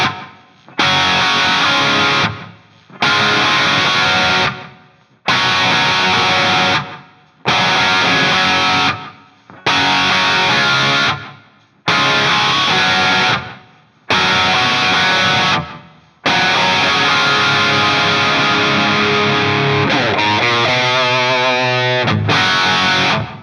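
Distorted electric guitar chugs through a Tone X pedal, playing a loud, driving riff of repeated chopped chord bursts with short gaps, then a sustained chord and quick melodic run, no talking.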